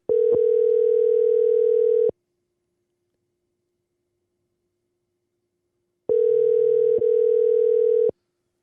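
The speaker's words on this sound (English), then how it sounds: "let's get him on the phone" A loud, steady telephone dial tone heard while a call is being placed, in two long bursts of about two seconds each, separated by a silent gap of roughly four seconds, with no voices.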